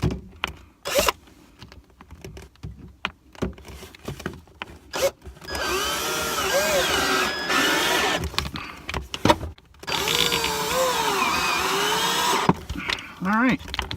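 A power drill whirs in two sustained bursts as it drives screws into a camper floor while a water pump is fastened down, near and moderately loud with short pauses and handling clatter around them.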